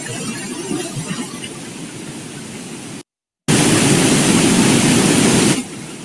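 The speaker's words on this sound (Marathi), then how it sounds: "धबधबा सुरू झालेला आहे ऑलरेडी." A waterfall rushes as a steady, dense roar, quieter at first, then cutting out briefly before returning louder and fuller, and easing slightly near the end.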